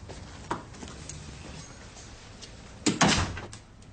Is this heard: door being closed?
yes